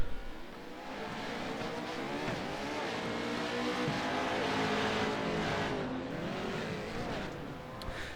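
Race cars in a video game racing league, engines droning and revving steadily at a moderate level, with rising and falling pitch as cars pass through the turns.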